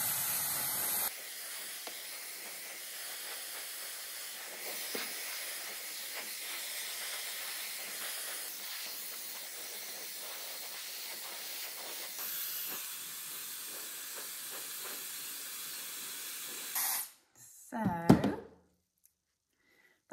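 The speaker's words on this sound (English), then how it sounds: "So I'll just dry my hair off with my trusty Zuvi." A Zuvi hair dryer rough-drying hair blows a steady, close airy hiss for most of the stretch, then cuts off abruptly, followed by a short burst of louder handling noise.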